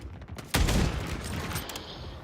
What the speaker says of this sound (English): Right now, I'm shooting